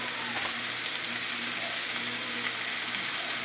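Ground meat for chili sizzling steadily in a pan while a spatula breaks it into smaller crumbles, with a constant close frying hiss and no talking.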